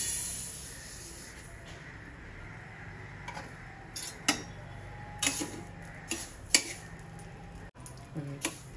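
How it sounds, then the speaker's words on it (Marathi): Finger millet (ragi) dry-roasting in a pan, with scattered sharp crackles and pops that grow more frequent over a steady low hiss. "नाचणी बघा अशी फुलायला लागली आणि याचा आवाज यायला चटचट चटचट"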